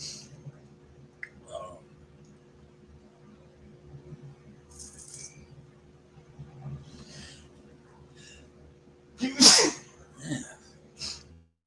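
A single loud sneeze bursts out near the end after quiet background murmur, followed by a smaller sniff or exhale.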